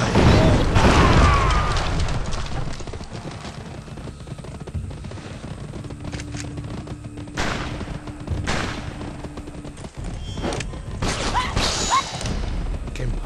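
Booming explosions and gunfire-like blasts from barrels exploding in the video game GUN, a loud burst at the start, then scattered thuds and rumbles over a busy mechanical background.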